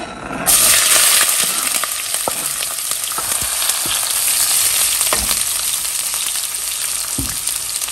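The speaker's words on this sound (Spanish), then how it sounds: "En una cacerola vamos a agregar un chorrito de aceite y le voy a agregar una cebolla y media en rodajas." Sliced onion, about one and a half onions, frying in a splash of oil in a pot gives a loud, steady sizzle from half a second on, with occasional small stirring clicks.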